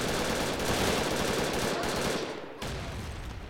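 Continuous rapid automatic fire from a mounted machine gun in the video game Brick Force, loud and dense throughout, with a brief dip before the burst resumes.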